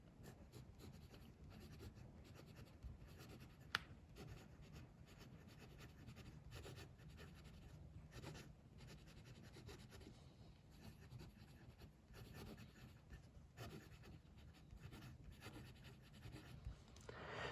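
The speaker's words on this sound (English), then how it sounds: "Let's do a writing sample with this pen." An Asvine V126 fountain pen writes on paper, its soft, continuous nib scratching very faint and close, with a small tap partway through and no voices.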